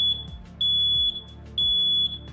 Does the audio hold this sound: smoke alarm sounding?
yes